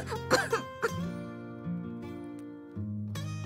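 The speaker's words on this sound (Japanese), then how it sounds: "なんか嫌な感じの咳だな。" A young woman who may be coming down with a fever gives a few short throat-clearing coughs close up. Quieter voiced sounds and a brief moan follow over a soft background tone.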